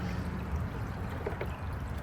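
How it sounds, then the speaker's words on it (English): Fabric softener poured from a bucket down a toilet, a steady continuous splashing pour that runs the whole time, close and fairly loud with no voices. "I'll dump that down the toilet"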